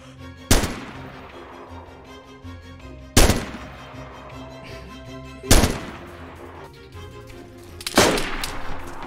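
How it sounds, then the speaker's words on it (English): Four separate sharp gunshots from the survival video game DayZ, spaced a few seconds apart, each loud crack trailing off into a short echo. "Is that him shooting?"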